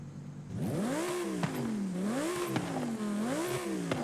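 A Lamborghini Huracan EVO engine in Forza Horizon 5 revs up and down in repeated rising and falling sweeps, loud and steady, with small clicks as gears shift.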